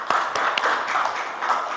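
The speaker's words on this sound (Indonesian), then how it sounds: "Tepuk tangan buat Adrian, kelompok Adrian ya." Classroom applause from students clapping hands, a brief burst of quick overlapping claps lasting under two seconds, fairly loud and close.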